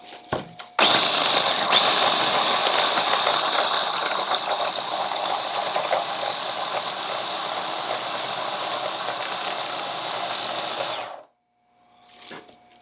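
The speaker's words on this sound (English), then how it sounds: "It did exactly what I was hoping it would do, which is grind up that sphagnum moss" Machine grinding sphagnum moss, a loud continuous whirring and grinding that starts abruptly, runs for about ten seconds, then cuts off, followed by a brief faint clatter.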